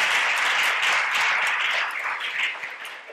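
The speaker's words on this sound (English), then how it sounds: "Give him a round of applause as he sits back down." A church congregation at a harvest service applauds, a continuous wash of clapping at moderate level, fairly even throughout with a slight dip near the end.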